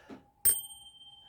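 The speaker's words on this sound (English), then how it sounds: "Let me ring my bell." A small hand bell is struck once and gives a bright metallic ding that rings on with a clear, slowly fading tone in a quiet room.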